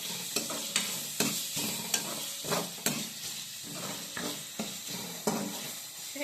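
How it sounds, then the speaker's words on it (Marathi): Dried bombil fish fry in hot oil over a high flame. A steady, close sizzle is punctuated by regular spatula scrapes and taps against the pan. "आधी बोंबील हे तेलामध्ये फ्राय करून घ्यायचे"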